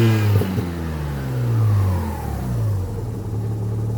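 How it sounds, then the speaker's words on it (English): A Mazda RX-7 FC with a street-ported rotary engine revs sharply toward redline and then drops back, giving a loud, close, buzzy rise and fall with rumbling idle underneath. "I barely got to give it any gas and it redlines"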